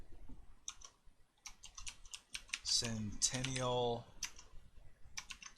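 A computer keyboard clacks as text is typed into a design program, short bursts of keystrokes at a close, moderate level, with a person speaking briefly in the middle.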